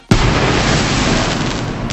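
A fireworks sound effect: a sudden loud blast followed by a dense, crackling rumble that sustains for about two seconds without fading out.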